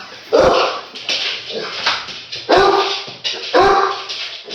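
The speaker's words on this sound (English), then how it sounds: "someone just walked the door and dogs barking like they don't know the person" Dogs bark repeatedly at someone arriving at the door, loud and close, sharp barks in irregular bursts about every second with a few higher yips mixed in.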